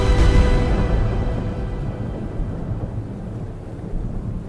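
A thunderstorm rumbles with a deep roll of thunder that fades away, over a steady hiss of falling rain.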